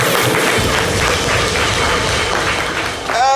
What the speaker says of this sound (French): Félicitations, applaudissements pour Jojo, s'il vous plaît.